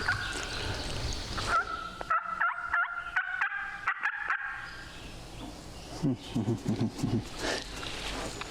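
A wild turkey gobbler gobbles several times at mid distance outdoors, short warbling bursts separated by pauses, followed later by a quicker run of lower clucking calls; no one talks.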